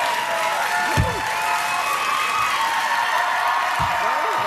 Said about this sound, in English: this is rather a warm and vivacious crowd